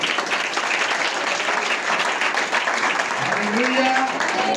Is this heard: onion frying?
no